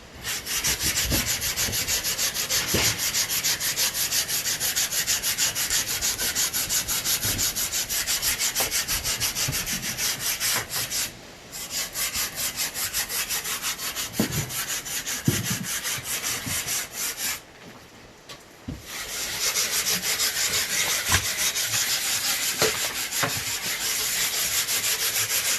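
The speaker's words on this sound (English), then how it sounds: "Sanding so hard, I can just feel that burn." Rapid back-and-forth scratching of sandpaper on wood continues steadily, pausing briefly twice before resuming, close and loud.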